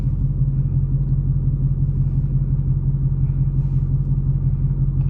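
Supercharged 2020 Dodge Challenger Hellcat Redeye V8 rumbling in drive with line lock engaged, a deep, steady, close-up low throb that holds even and unbroken throughout.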